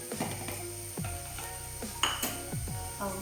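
Sliced onions with a pinch of turmeric are sautéed in a pan for Kannur-style ulli theeyal, with soft sizzling and a few distinct scraping stirs of a spoon against the pan.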